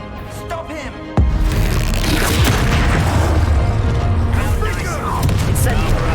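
Explosive spells go off in Hogwarts Legacy, with a sudden deep boom followed by a long, dense roar of blasts, crackles and rumbling debris. Loud and continuous, with faint voices mixed in.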